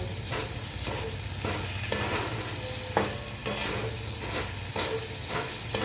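Potatoes frying in oil in a pan as salt is stirred through them: a soft, continuous sizzle under regular scraping stirs, roughly one per second, up close and without speech.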